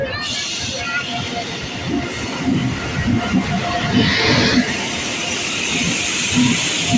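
A late passenger train rolls into Varanasi City station on a cold winter night, its loud, continuous rumble and wheel noise filling the platform, with faint voices in the background.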